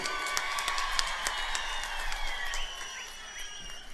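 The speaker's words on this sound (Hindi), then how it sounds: "जोर से ताली बजाइए" Applause from a crowd at a political rally in Darjeeling: a dense, steady clapping that lasts the whole stretch, fairly loud and spread out, with some whistles on top.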